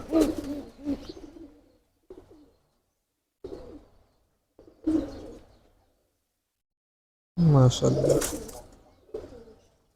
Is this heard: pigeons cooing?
yes